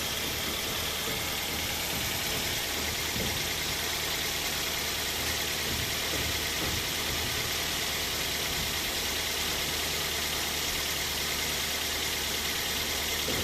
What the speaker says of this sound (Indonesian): Langkah selanjutnya kita nyalakan mesin.